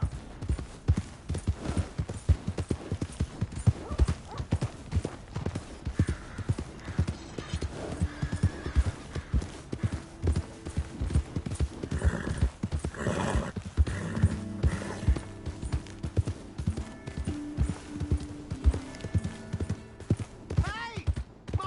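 Rhythmic clip-clop of horse hooves with a horse whinnying in the video game Red Dead Redemption 2, set against a steady game soundtrack and occasional voices.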